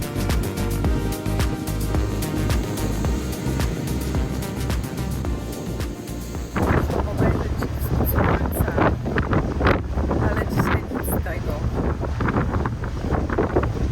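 Strong wind at sea aboard a ferry roars steadily across the microphone with a rough, buffeting rush, and a person speaks briefly under it.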